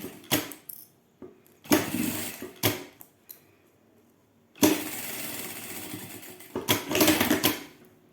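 A sewing machine stitches a zipper onto a zippered wallet in short rattling bursts separated by pauses, close and clear with no talking.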